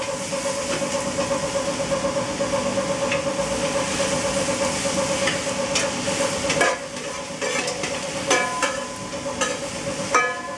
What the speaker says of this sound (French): je vais lui incorporer des poivrons.